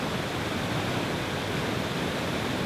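At the base of a waterfall on a brook trout stream, water rushes in a dense, constant, close roar with no break or other sound.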